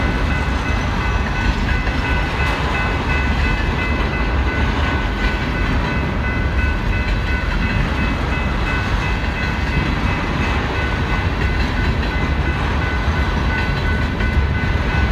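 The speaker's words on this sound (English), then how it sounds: "Westbound manifest coming from Northtown BNSF Yard to Minot," A long BNSF westbound manifest freight train heading from Northtown Yard toward Minot, North Dakota, in snowy January weather, rumbling past close and loud with a steady continuous roar of wagons throughout.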